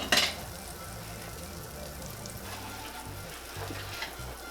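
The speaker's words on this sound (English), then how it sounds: "Alright, want to get our butter melted" Three tablespoons of butter melting in a pan for garlic Tuscan salmon pasta, a soft continuous sizzle with light crackle and a few stirring clinks, fairly quiet throughout.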